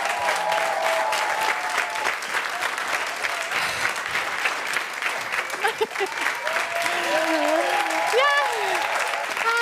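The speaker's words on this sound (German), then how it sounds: "Großen Applaus" A studio audience at a German stand-up comedy show applauds warmly and continuously as a comedian takes the stage, with cheers and a few brief spoken words mixed in near the end.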